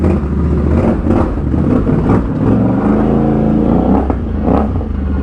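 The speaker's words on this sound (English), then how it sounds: "you cannot beat the sound of the Outlander, honestly. Sounds so good." Loud, close rumble of a Can-Am Outlander ATV engine with repeated revving surges, a steady throaty drone rising and falling over several seconds.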